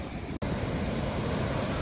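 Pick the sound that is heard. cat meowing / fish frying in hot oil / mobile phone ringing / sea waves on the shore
sea waves on the shore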